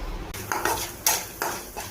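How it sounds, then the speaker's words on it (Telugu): A spoon clinks and scrapes against a pan while stirring a lemon rice tempering of curry leaves, dried and green chillies and peanuts, a handful of sharp metallic knocks in a quiet kitchen. "పోపు అనేది కొద్దిగా దోరగానే వేపుకోవాలండి, లెమన్ రైస్ కదా."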